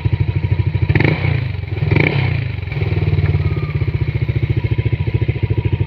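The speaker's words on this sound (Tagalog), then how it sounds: "sound check tayo ng JBT pipe dito sa NMAX" Yamaha NMAX scooter fitted with a JBT exhaust pipe revving up close, its loud, rapid pulsing exhaust note rising in a couple of throttle blips before settling into a steady, throbbing idle.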